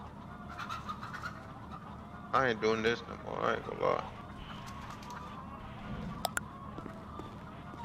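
Chickens clucking in the GTA roleplay video game, a brief burst of bird calls mid-clip beneath someone talking, with low background ambience running throughout.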